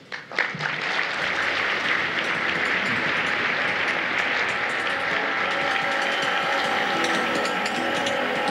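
An audience applauds to welcome speaker Ray Kurzweil, starting with a few scattered claps and then swelling into a full, steady ovation that holds at an even level throughout.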